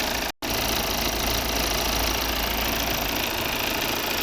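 A 2016 Volvo XC60 2.0 D3 four-cylinder diesel with a Denso fuel system idles steadily, a close, even mechanical hum with a faint knocking texture and one brief dropout near the start.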